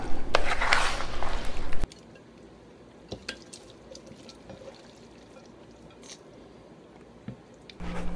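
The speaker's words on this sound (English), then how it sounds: "Give that a good stir, and then we're going to put it in the crock pot." Chopped hot sausages are stirred in a pot for chili, giving a wet squishing and dripping burst for the first couple of seconds, then a long quiet stretch with faint kitchen noise and a brief return of louder sound at the end.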